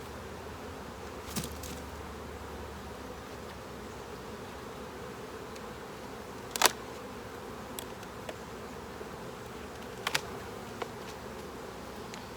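Honeybees droning steadily around an opened hive with a supered box, a soft continuous buzz throughout, punctuated by a few brief sharp clicks and knocks from handling the frames.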